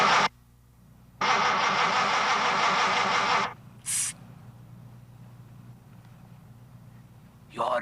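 A car engine cranks and starts in one loud burst of about two seconds, followed by a couple of short, fainter sounds, with someone talking over parts of it.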